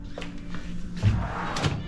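Large drawers in a hotel room at a Disney resort's French Quarter are pulled open, giving soft wooden thunks and a couple of sliding knocks over a quiet room.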